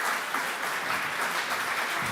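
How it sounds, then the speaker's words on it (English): Audience at a startup event applauding a speaker, a brief, fairly quiet burst of many hands clapping heard from a distance. "A round of applause."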